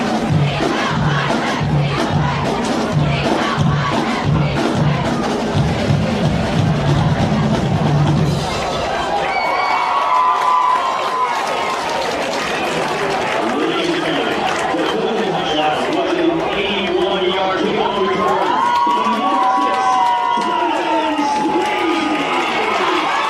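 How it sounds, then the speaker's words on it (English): A football crowd roars at a high school game between Clifton and Hackensack while a marching band plays. Loud, dense cheering runs throughout, with brassy band tones rising over the noise in the second half. "The crowd going crazy, the band playing."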